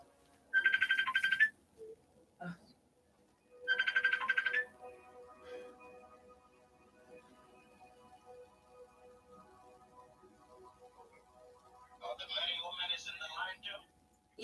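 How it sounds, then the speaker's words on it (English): A phone ringtone rings in two loud bursts during a live tarot reading, followed by quieter tones and a person talking near the end. "My phone's ringing."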